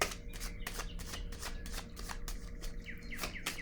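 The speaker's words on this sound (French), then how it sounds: "Je vais déposer une carte sur solitude à l'envers" Tarot cards handled and laid down on a surface at close range: a quick series of crisp papery flicks and soft slaps that repeats steadily throughout, with no voices.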